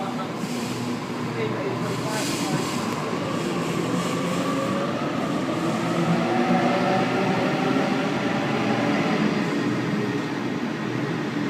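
A Sydney train departs Olympic Park station platform 3 bound for Lidcombe, a loud, continuous rumble of wheels and motors rolling past close by, steady throughout and mixed with station noise.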